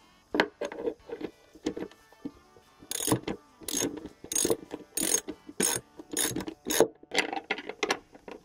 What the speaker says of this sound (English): Let me grab a, a ratchet.